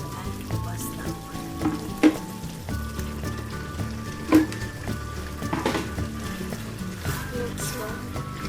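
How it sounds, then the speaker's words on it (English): Pasta added to a pan of mutton pasta sauce, a steady close sizzle and bubbling with a few scraping stirs and clanks, fairly loud throughout, with some talking in the background. "Now it's time to add the pasta."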